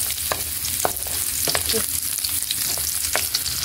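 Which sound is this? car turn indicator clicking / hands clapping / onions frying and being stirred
onions frying and being stirred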